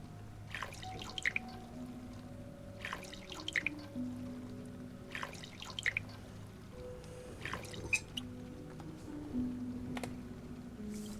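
Distilled water drips and splashes into a container in Song of Horror in small bursts about every two seconds, fairly close and light over a faint low hum.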